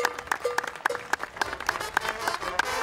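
Applause at the coronation of the patron saint during the San José Tzal religious festival, a scattered burst of clapping with sharp recurring claps over a busy outdoor background.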